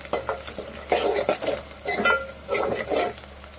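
Cabbage keema fry with turmeric gets stirred in a pan, a series of scraping, clattering spoon strokes against metal over a soft sizzle, close and moderately quiet, no talking.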